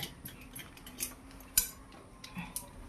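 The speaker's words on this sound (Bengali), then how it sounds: "আমি ভাত বেড়ে নিচ্ছি, দেখে নাও তোমরা।" Rice being served onto a plate with a metal utensil, giving scattered light clinks and taps over a quiet room, one sharper clink standing out midway.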